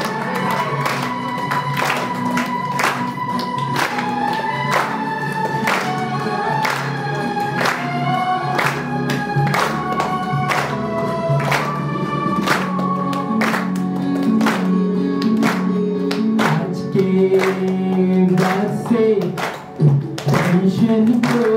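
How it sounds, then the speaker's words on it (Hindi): Audience at a Brahma Kumaris spiritual program in Delhi claps in a steady rhythm along with music and singing, sharp regular claps running through the whole stretch at a moderate, even level. "तालियों के साथ मेरा साथ देंगे सारे"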